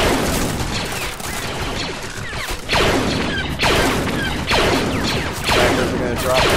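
Gunfire in the Clones of War mod, a Star Wars clone trooper battle at a bunker outpost, with repeated bursts of blaster fire and sharp cracks arriving in clusters about a second apart over a busy battle din.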